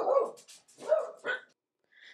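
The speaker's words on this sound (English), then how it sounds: "They like to bark their little faces off sometimes." Small household dogs let out a few sharp barks in quick succession, fairly close and alone indoors, with a faint higher yip at the end.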